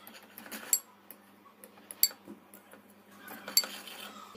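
A spoon stirring a honey mixture in a bowl for cupcakes, faint soft scraping with a few bright metallic clinks spaced a second or so apart, quiet and close, without talking.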